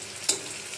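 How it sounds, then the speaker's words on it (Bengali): Onions fry in a wok, giving a soft, continuous sizzle that stays faint and steady, with a brief stirring scrape near the start. "কড়াইতে পেঁয়াজ নিয়ে নিচ্ছি, পেঁয়াজটা ভাজতেছি ভালো করে।"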